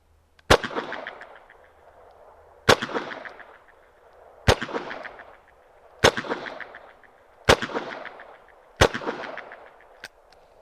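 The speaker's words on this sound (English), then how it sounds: "So these first rounds are going to fire double action from 7 yards." Ruger Security Six .357 Magnum revolver fired double action with wadcutter rounds at an outdoor range: six loud, sharp shots at a steady pace roughly two seconds apart, each followed by a short echoing decay, with no talking.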